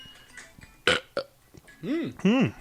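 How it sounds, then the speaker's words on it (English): A person lets out burps during a casual podcast: a few short clicks and noises, then two drawn-out, voiced belches close together, loud and near the mic. "That's the perfect thing to do when you burp."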